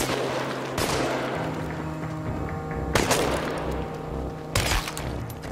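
Gunfire in the video game Chernobylite: a few sharp, loud shots with booming tails, spaced a couple of seconds apart over a low ambient game drone.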